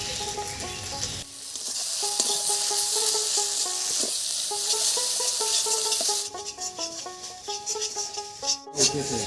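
Broad beans cooking in a pan with fried onions added on top: a bright continuous sizzle over background music, briefly dropping out and returning, steady and close, no talk.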